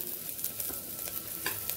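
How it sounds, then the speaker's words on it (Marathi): Onions sizzle and fry in ghee with occasional stirring scrapes, a steady close crackle with no voices. "कांदे तुपात छान परतले, त्याचा रंग बदलला आहे"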